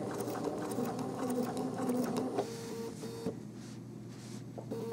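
A Bernina sewing machine stitches down the edge of a quilt appliqué with a close, rapid, rhythmic mechanical chatter for about two and a half seconds, then falls to a quieter hum with a few faint clicks.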